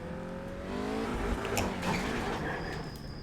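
A race car engine in the iRacing sim racing game drones with a steady harmonic whine that shifts in pitch as it revs and eases, kept fairly quiet in the mix throughout.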